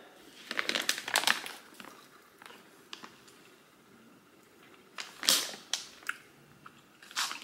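Gummy strawberry candy being bitten and chewed up close, with crinkly, squishy bursts in two clusters separated by a quieter stretch, and no talking.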